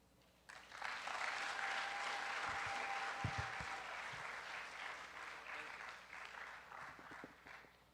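A graduation audience bursts into sustained applause for the graduates, a dense wash of clapping that starts suddenly, holds steady for several seconds and slowly tapers, with a few thumps and faint voices underneath.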